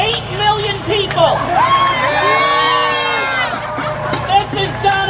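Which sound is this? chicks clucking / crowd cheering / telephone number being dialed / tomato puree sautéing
crowd cheering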